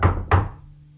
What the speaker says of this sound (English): on Monday evening there was a knock at my door